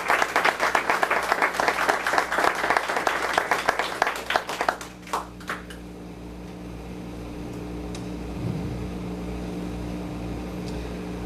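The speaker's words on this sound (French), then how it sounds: "acclamez pour le Seigneur" A church congregation claps together in loud, dense applause for about five seconds, then it thins to scattered claps and gives way to a quiet room hum.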